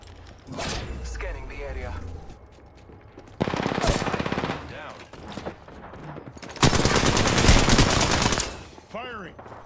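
Gunfire in a video game battle, with bursts of rapid automatic fire and single shots coming in separate loud volleys, some near and some quieter, mixed with game voice lines and talk.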